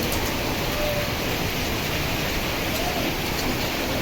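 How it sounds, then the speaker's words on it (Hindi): Hail falls in a dense, even clatter, a loud unbroken hiss of many small impacts on surfaces with no pauses. "पता नहीं, ओले गिर रहे भाई"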